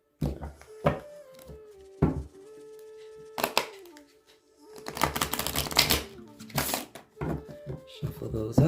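Tarot cards are shuffled by hand at close range, with rapid papery riffles and flicks in bursts broken by pauses, while a person's voice hums and talks in between.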